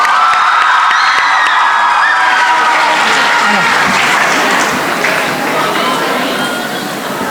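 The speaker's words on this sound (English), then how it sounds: "Everybody give another round of applause for Juwaria." An audience at the Al Amal Islamic School graduation breaks into loud, steady applause mixed with cheers and whoops, a dense clapping crowd that softens slightly toward the end.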